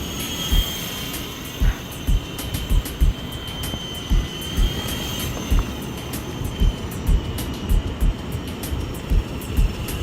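A Walkera V370D01 flybarless RC helicopter whines steadily with a high engine tone, joined by repeated low thumps and wind buffeting; no voices.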